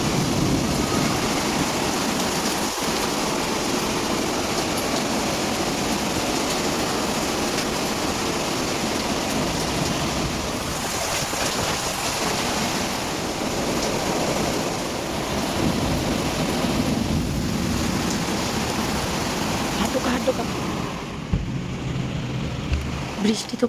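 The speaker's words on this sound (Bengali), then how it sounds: "আসলে এত হাওয়া, তো হাওয়ার সাথে বৃষ্টি" Strong wind with rain, a loud continuous roaring wash with gusty swells, recorded close and unbroken, with faint voices briefly under it.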